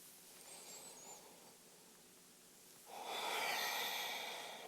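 Slow breathing during alternating-side yoga stretches, a faint quiet breath first, then a louder, longer airy exhale near the end.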